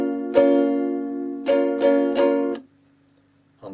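A ukulele plays a strumming pattern slowly, with four distinct strums in an uneven rhythm that ring out before a quiet gap and the start of another strum.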